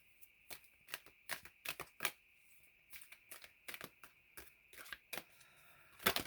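New, sticky oracle cards are shuffled by hand in a series of quick, close riffling bursts with short pauses between them, fairly quiet overall.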